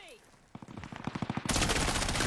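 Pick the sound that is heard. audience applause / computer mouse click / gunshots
gunshots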